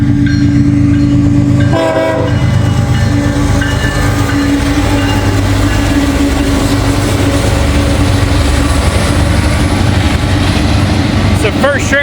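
A loud train rumbles past close by in Glendale, its horn sounding in long sustained blasts over the heavy clatter of the cars.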